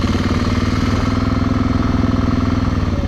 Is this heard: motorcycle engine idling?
yes